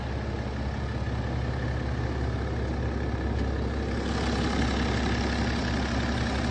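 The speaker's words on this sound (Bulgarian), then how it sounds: "Мотора работи прекрасно." A BMW F36 430xd diesel engine runs steadily on idle, a constant loud mechanical drone with no break and no voices.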